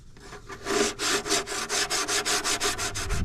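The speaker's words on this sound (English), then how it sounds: "Now we can go ahead and sand down our port." Sandpaper rubbing the port of a wooden subwoofer box, quick back-and-forth strokes in a steady rhythm of about a dozen rasping passes, close and clear with no talk.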